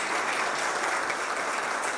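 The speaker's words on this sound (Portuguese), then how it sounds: "Uma salva de palmas para vocês" An audience at a retail and franchising business meeting in northwestern São Paulo state gives steady, dense applause that stays level throughout without any talking.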